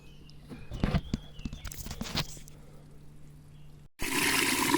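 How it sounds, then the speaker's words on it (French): Water runs loudly from a tap into a watering can at a garden spot being prepared for planting tomatoes, a steady gushing pour that starts abruptly after a few quieter footsteps and small knocks. "On va remplir d'eau."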